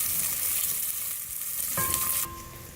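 Onions browning lightly in a pan for mash ki daal give off a steady, close hiss of frying that runs throughout, with a faint tonal hum entering near the end.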